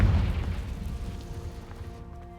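A Confringo spell explodes in a Harry Potter video game, a deep booming burst at the very start that rumbles and decays over about two seconds, with faint game tones lingering beneath.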